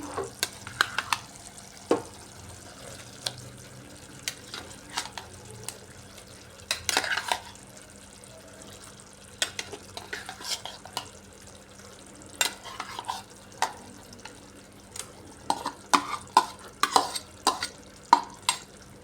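Pieces of ash gourd are stir-fried with spices in a pan, giving a faint low sizzle broken by frequent sharp clinks and scrapes of a spatula against the metal, with bursts of stirring toward the end.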